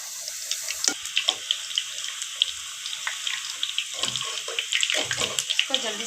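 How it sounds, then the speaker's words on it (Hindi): Puris sizzle as they are lowered into hot oil for a crispy poori recipe: a steady, close frying hiss with scattered crackles and pops building toward the end, with no talking. "ऑयल गर्म हो गया है, इसके अंदर हम ये पूड़ी को डाल लेंगे बहुत ही एहतियात के साथ।"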